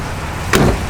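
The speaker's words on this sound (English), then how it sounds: "Doors open and close real nice." A car door on a 1966 Pontiac GTO swings shut with a single loud, close, solid thud midway through, against a quiet background.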